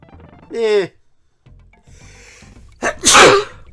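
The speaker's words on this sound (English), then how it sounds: "Excuse my sneezing there." A single sharp sneeze bursts out near the end, preceded by a short vocal sound and brief quiet moments.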